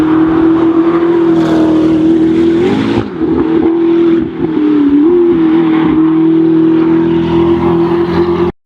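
A McLaren P1 engine drones loudly and steadily in the Need for Speed video game, with brief shifts in pitch around a couple of gear changes before settling back into a sustained roar.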